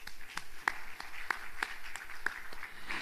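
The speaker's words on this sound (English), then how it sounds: "So give them a warm applause" A small audience gives sparse, evenly spaced claps after a presentation at a sustainability award event, with a few distinct hand claps standing out over a quiet room.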